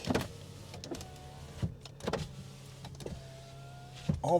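Power windows on a pickup truck with about 94,869 miles whir up and down in several short motor runs, each ending in a soft clunk, close by inside the cab.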